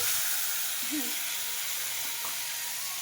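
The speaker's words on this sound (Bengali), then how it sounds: "সর্ষে ফড়ং দিয়ে টমেটোটা দিয়ে দিল" Dal tempered with mustard seeds and tomato sizzles steadily in a hot pan, a constant close hiss with a person talking faintly underneath.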